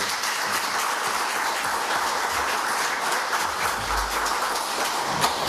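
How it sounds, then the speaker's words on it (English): Audience at a town real estate forum gives a sustained round of applause for the staff, dense even clapping from many hands filling the room with no talking. "could we get a round of applause for our amazing staff"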